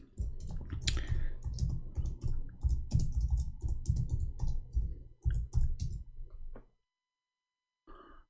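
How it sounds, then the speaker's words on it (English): Keys on a computer keyboard are typed in a fast, dense run of clicks for about six seconds, then the typing stops and the clip falls quiet apart from one faint click near the end. "I'm typing in English."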